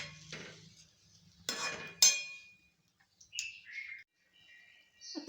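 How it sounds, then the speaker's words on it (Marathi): A spoon scrapes and clinks in a pan of spiced ridge gourd curry cooked with hot water, giving a few separate, fairly quiet strokes with pauses between them. "आता मिक्स करून घेऊ।"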